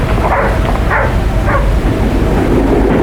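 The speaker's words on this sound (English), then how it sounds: "Just wait till I set the dog free." A dog in an audio drama, set at King's Pyland stables, yips and barks in a few short bursts over a loud, hissy cassette background.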